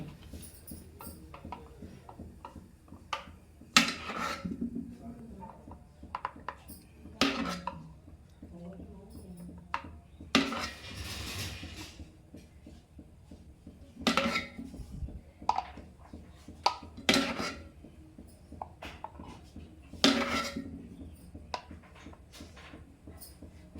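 Homemade mango ice cream is scooped into a container, with scattered clinks and scrapes of a spoon against the dish, fairly close and quiet between pauses, while a person talks at times.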